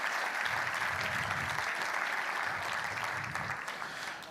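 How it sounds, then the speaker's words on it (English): An audience at a charity fundraiser gala breaks into a steady round of clapping that holds for a few seconds and then slowly thins out. "So let's give them a round of applause too."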